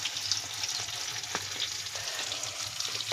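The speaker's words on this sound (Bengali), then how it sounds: "পেঁয়াজটা এবার আমাদের ভাজা হবে, হালকা ভাজা হবে" Onion frying lightly in oil with bay leaf and chopped green chilli in a wok, a close continuous crackling sizzle with occasional soft stirring clicks; no speech.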